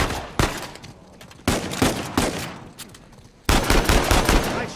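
Gunfire in the video game Uncharted 4, three loud bursts of rapid shots with sharp reports and short gaps between them, close and continuous.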